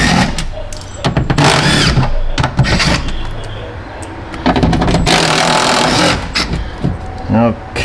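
A power tool with an 8mm socket backs screws out of a front door, giving short whirring bursts with pauses between them and a squeal near the end, all under close talking.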